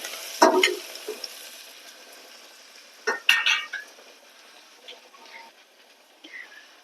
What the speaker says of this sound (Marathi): घाई असेल तर थोडस मीठ टाकायचं, म्हणजे कांदा पटकन नरम पडतो आणि शिजून जातो तेलामध्ये.